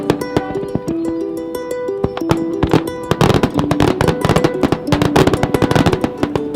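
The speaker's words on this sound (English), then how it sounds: "Front row fireworks." New Year's Eve fireworks bursting close by, a dense run of sharp cracks and pops that thickens into rapid crackling barrages, loud and alone with no talk.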